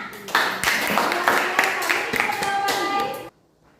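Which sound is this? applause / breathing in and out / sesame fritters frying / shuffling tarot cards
applause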